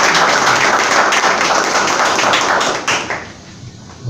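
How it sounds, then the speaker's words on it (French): A church congregation applauds during a worship service: dense, steady clapping from many hands fills the space, then thins and fades over the last second. "nous applaudissons cet esprit de Dieu"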